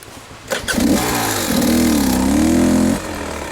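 A trail motorcycle on a private trail in the Allegheny Mountains of New York state starts up with a sharp burst, then settles into a steady, close, fairly loud engine drone with a rising and wavering pitch before dropping back to a lower idle.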